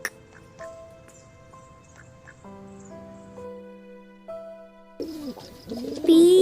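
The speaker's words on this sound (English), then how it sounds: "P-I-G-E-O-N. Pigeon." A pigeon coos near the end, soft then louder throaty calls rising over a backdrop of gentle sustained musical notes.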